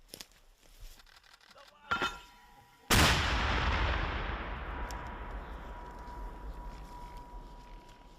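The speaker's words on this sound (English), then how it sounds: "They dropped it, and then they fired it again." A mortar is fired in a combat zone. A single deep, booming blast arrives after a couple of smaller knocks and a short burst of noise, then rolls out into a long, fading rumble.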